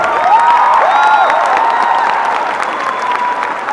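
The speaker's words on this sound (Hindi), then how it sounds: "आपकी तरफ से भी जोरदार तालियां होनी चाहिए बच्चे।" Audience applause at a college inauguration event in Patna, a loud steady burst of clapping from a crowd that tapers slightly toward the end, with a brief voice over the start.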